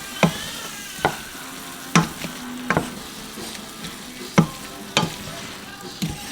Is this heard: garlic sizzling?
yes